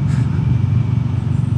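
Steady, close exhaust rumble from a single-cylinder Royal Enfield Meteor 350 motorcycle engine, a deep, loud, evenly pulsing throb that holds constant throughout.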